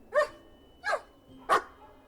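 Three short, distinct barks spaced about two-thirds of a second apart, coming from a cat character in the video game Gibbous, fairly close and clear over a quiet background.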